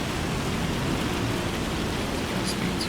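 Steady broadband rain falling in Farming Simulator 25, a continuous even wash with no breaks, faint patter on top and a few brief high chirps near the end.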